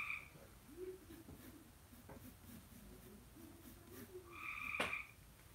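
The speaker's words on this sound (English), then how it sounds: "I apologize for any frog noises" Frogs croak outdoors behind a house, a few low burbling calls spread across the clip, with a couple of sharper higher calls near the end, faint and moderately distant against quiet background noise.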